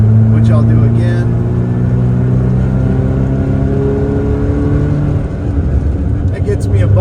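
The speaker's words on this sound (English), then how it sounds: "So there does seem to be a little bit more intake noise." A car fitted with an HPS intake pipe accelerates through a 4,500 RPM shift, its engine note rising in a steady drone with audible intake noise, recorded from inside the car as someone talks over it.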